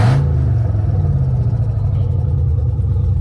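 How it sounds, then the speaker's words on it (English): A Cadillac Escalade engine revving, a loud, close, steady low rumble with a slight clatter and no voices over it. "Let's give her a few revs."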